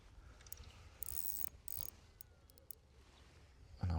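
A fishing reel's drag on a cheap feeder rod is loosened in a few short bursts of quiet, clicking ratchet sound close by, separated by pauses, with a louder knock at the end.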